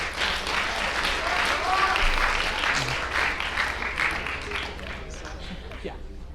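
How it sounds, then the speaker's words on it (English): An audience breaks into sustained applause for a student panelist at a school event, steady and dense throughout, with voices mixed into the clapping as it slowly tapers off. "Let's give him a round of applause."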